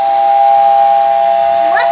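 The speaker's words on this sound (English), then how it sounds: "A whistle. Well, I know, but the train wasn't moving." A vintage American Flyer toy train lets out a steady, loud, steam-style whistle, a sustained tone over a breathy hiss that holds throughout, with a brief voice at the very end.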